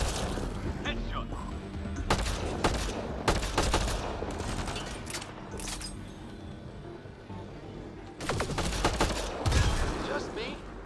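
Bursts of gunfire from the Mass Effect Andromeda video game, several sharp volleys and rapid fire in clusters, loud and close, with in-game voices talking over the combat.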